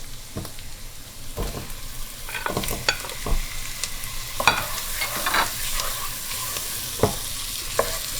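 Meat browning in a pan with turmeric for a spinach and prune stew, sizzling steadily up close while a utensil stirs and scrapes in repeated irregular strokes.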